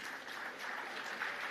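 Conference audience applauding after a panel session at the Afreximbank Annual Meetings, a soft, even wash of distant clapping with no break.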